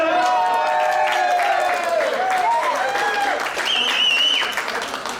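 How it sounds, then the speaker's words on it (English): Applause and cheering from a crowd at a rumba dance showcase swells steadily, with bright whistles and shouts rising above the dense clapping. "I don't think that they're going to dance with that little bit of applause"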